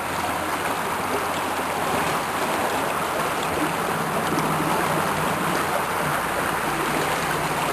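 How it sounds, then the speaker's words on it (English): Brook water rushing steadily over a rusted bridge, a constant broadband wash of flowing stream noise at moderate level with no voices. "Yep, the water's flowing right over the bridge."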